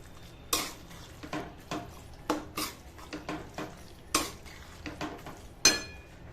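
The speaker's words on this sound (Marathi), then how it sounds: "हे असेच मॅरिनेट केलेले पनीर मी आता याच्यामध्ये टाकून घेणार आहे. आणि हे चांगले याच्यामध्ये मिक्स करायचे." A spoon stirs marinated paneer into biryani in a metal pot, giving quiet, irregular scrapes and clinks against the pot with a few sharper knocks, close and alone.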